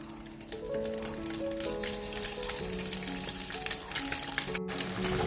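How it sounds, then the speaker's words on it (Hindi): Paneer cubes fry in a pan of oil over a lowered flame, giving a steady, close sizzle that runs the whole time over a sustained tonal backdrop, with no voices. "हम इसमें पनीर ऐड करेंगे, उससे पहले मैं फ्लेम को थोड़ा सा स्लो करूंगी ताकि एकदम से जलते जले नहीं"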